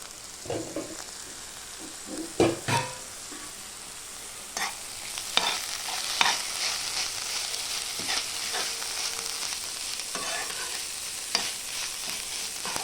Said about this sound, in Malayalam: നമുക്കൊന്ന് ഇളക്കി നോക്കാം